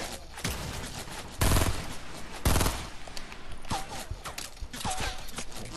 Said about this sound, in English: We're getting shot from behind.